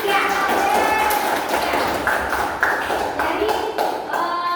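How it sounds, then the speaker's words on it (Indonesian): Classroom applause for a group of students, fairly close, uneven clapping with scattered sharp taps, mixed with voices chattering throughout. "kita beri aplaus untuk kelompok 3"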